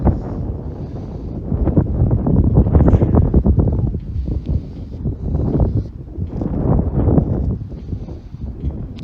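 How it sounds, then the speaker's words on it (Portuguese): Strong, gusty wind buffets a DJI Mini 3 drone flying long range, a loud continuous roar rising and falling in broad surges across the whole stretch. "E o ventão tá forte,"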